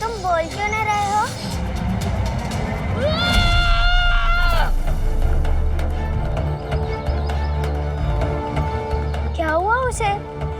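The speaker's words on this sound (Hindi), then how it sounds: "वो इतनी जोर से चीखा क्यों?" A boy screams loudly during a Holi festival scene in a devotional drama. Several sharp, rising and falling cries stand out over music and busy background sound.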